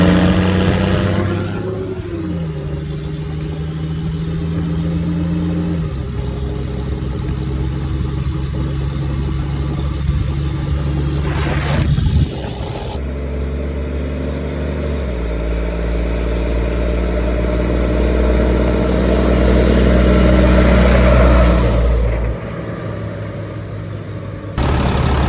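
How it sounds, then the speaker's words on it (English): A heavy diesel Oshkosh MTVR Mark 25 7-ton military cargo truck, about 30,000 pounds, idles, then revs and accelerates in low rumbling surges, with gear changes and a sustained loud drone. "Taking the truck for a little test drive."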